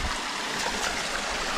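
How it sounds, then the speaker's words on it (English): Waterfall and stream water flowing beside a muddy bank during a whitewater kayak trip in southeast Alabama, a steady close rushing wash of water, no talk. "what I'm hearing, yeah, it's a waterfall"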